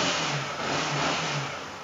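An engine runs steadily at close range with a slightly rising and falling hum on a second-hand sport motorcycle with about 36,000 km on it, a Ninja or an all-new CBR150R, and no one speaks.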